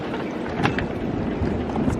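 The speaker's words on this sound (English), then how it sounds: "It's quite windy today" Wind buffets the microphone aboard a sailing boat in a continuous low, rumbling roar, with faint splashes and knocks underneath.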